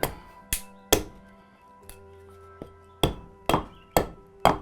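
A wooden duck decoy is chopped into shape during traditional Ocracoke carving, with about nine sharp, loud, close wooden whacks in an uneven rhythm and brief ringing between blows.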